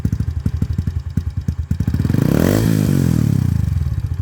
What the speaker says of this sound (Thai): ไหนมันดังแค่ไหน เบิ้ลเนยดิ